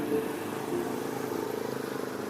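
A motorcycle engine runs steadily, a low, even mid-pitched drone that stays close and continuous without clear revving, with no voices over it.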